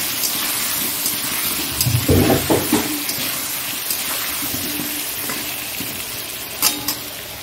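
Food seasoned with salt and turmeric fries in a home kitchen pan, a steady soft sizzle with a cluster of louder stirring scrapes and clatter near the start and a brief sharper clink later.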